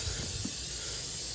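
Brake cleaner sprayed from an aerosol can onto a rusty B5, a continuous loud close hiss running steadily without pause.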